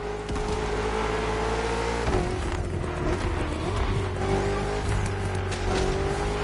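A BMW M CS engine in the racing game The Crew Motorfest drones steadily at speed, rising and dropping through gear changes with a brief shift dip, loud and close with road noise underneath.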